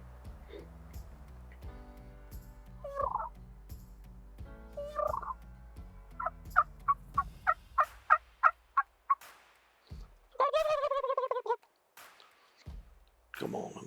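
A wild Merriam turkey gobbles in the field during a hunt. Its loud rattling gobble comes late, after a run of sharp evenly spaced clucks, over a low background hum.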